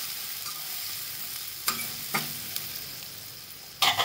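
Turmeric, red chili powder and green chilies are stir-fried in a pan for a moong bhaji: a soft, steady sizzle broken by a few sharp spatula scrapes, with no talking.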